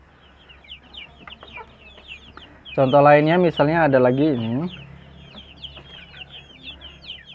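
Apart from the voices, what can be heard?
free-range village chickens clucking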